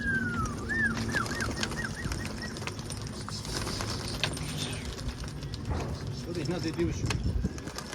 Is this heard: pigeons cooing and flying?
yes